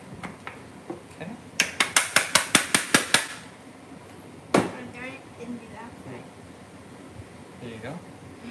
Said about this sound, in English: I've got some cheese here. I'm going to grate up.